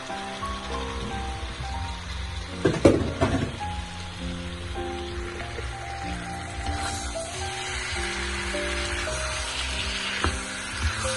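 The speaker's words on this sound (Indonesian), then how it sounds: "Kita aduk sampai tercampur rata." Boiled banana blossom and jackfruit stirred in a frying pan, a continuous dense sizzle with scraping spoon strokes and a louder burst of stirring early on, close and without talk.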